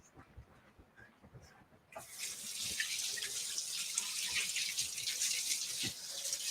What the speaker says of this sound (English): I'm going to go wash these carrots, scrub them, and peel them.